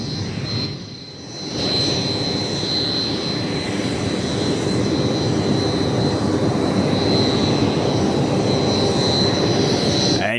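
Aircraft engines roar steadily at an airport, a loud continuous jet-like drone with a high whine, briefly dipping near the start before holding strong and close throughout.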